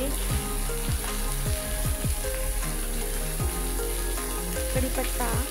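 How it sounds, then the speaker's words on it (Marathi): Ginger, garlic, bay leaf, cardamom and cumin sizzle and fry in a pan for a paneer curry, a steady loud crackling with stirring scrapes throughout. "आता हे सर्व मिक्स करून घ्यायचं आणि छान असं भाजून घ्यायचं आहे।"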